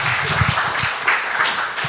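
A church congregation at a Sunday worship service claps together in a short burst of applause, dense overlapping hand claps filling the room, with a faint voice underneath.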